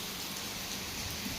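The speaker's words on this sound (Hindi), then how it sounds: "खतरनाक वाली बारिश हो गई। आवाज़ आप सुन ही रहे होंगे।" Heavy rain pours down in a dense, continuous roar, drops drumming hard on surfaces close by.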